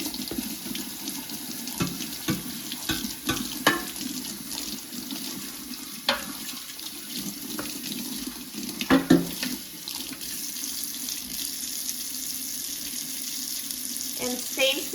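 Tap water runs steadily into a sink while a non-stick air fryer basket is washed by hand, with splashing and clattering from handling the basket and faint talk at times.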